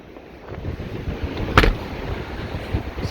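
Strong wind gusts of Hurricane Sally batter an outdoor microphone in a steady roar, with one sharp, louder blast near the middle and rushing surges throughout.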